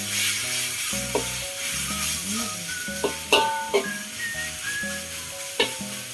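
Food sizzles and fries in a pan while being stirred in a home kitchen, a steady close hiss broken by a few scraping knocks of the spoon, with no talking.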